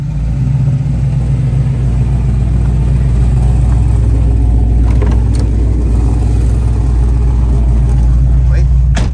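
A 1967 Chevrolet Camaro with a modified 275 hp V8 runs loud and close, with a deep rumbling idle and throaty revs that rise in the latter half.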